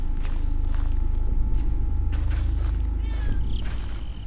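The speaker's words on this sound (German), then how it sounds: "Und jetzt fängt meine Katze an zu quietschen" A house cat gives a couple of thin, high squeaky meows near the end over a loud, steady low hum, with soft footsteps or shuffling earlier.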